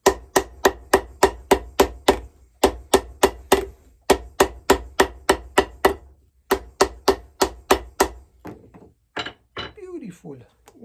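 Sharp, rapid hammer blows strike Florsheim shoe heels in quick even bursts, close and loud, pausing briefly between runs; a few softer taps and rustles follow near the end.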